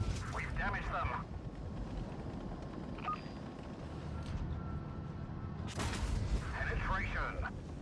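Tank cannon fire in World of Tanks Blitz, two loud booming shots several seconds apart over a steady engine rumble, with someone talking throughout.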